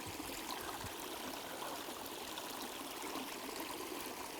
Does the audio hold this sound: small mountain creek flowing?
yes